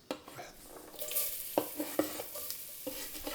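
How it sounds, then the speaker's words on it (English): Onions sizzle and crackle in a hot pan, with a steady frying hiss broken by several sharp stirring clatters. "Get a nice sizzle, right?"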